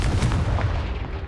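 Blasting spell cast in the Hogwarts Legacy video game, a loud booming blast with a rumbling tail lasting just over a second, with no talk over it.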